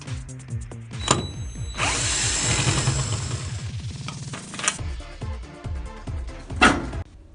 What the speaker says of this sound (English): Remove 2 screws on top of the cover.